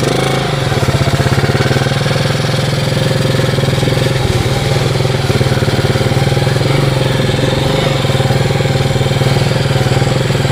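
A Yamaha Moto4 ATV engine drones steadily while being ridden around a property, a loud, close, continuous rumble with a buzzing pulse that holds roughly even throughout.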